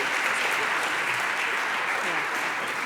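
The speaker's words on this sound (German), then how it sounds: "Kurzen Applaus Moment, vielleicht." A panel discussion audience gives brief, even applause, a steady wash of clapping that holds at moderate volume throughout.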